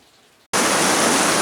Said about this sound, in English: Okay, it's only going to be a shower and it'll be gone soon.